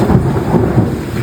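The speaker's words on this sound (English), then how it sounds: "it's raining outside after a long time" Rain falling outside a window, a dense steady hiss with a low rumble of thunder underneath, close and fairly loud with no speech.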